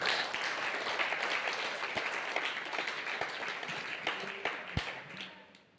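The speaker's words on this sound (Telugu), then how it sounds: "Claps to everybody." An audience at a motivational and development class claps together. Dense, fairly close applause opens the stretch, then thins into scattered individual claps as it fades out.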